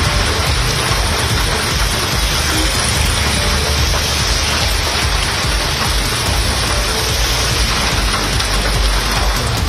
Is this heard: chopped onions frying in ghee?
no